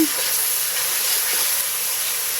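Garlic paste sizzles in a hot pan while fish is being cooked, a steady, loud, broadband hiss running continuously without pause.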